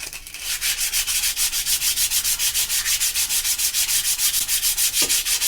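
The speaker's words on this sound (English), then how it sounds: "I'm using about 80 grit sandpaper here, which is pretty aggressive" Hand sanding wood with coarse 80 grit sandpaper while shaping a medieval crossbow tiller: fast, rhythmic back-and-forth rasping strokes, close and even, about five per second, with no voices.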